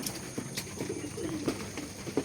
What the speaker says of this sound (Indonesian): kita lagi kasih makan merpatinya ya teman-teman ya.